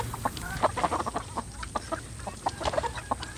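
Chickens cluck and squawk at a poultry farm in a rapid, irregular series of short, moderately loud calls from several birds nearby, with no talking over them.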